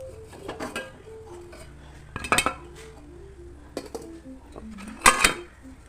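A duck egg flipped in a non-stick frying pan: a few light metallic clinks and scrapes of a spatula against the pan, spread apart, under a faint voice talking.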